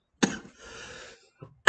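A teacher coughs in a classroom: a sharp cough burst, a short throaty rasp, then two more quick coughs, close and loud with no talking between them.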